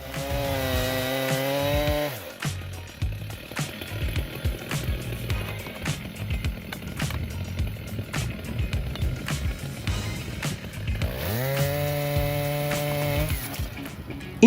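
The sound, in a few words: chainsaw cutting giant tree trunk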